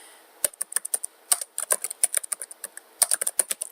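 Credit card billing details being typed on a computer keyboard: quick, irregular runs of crisp key clicks with short pauses, close up and alone.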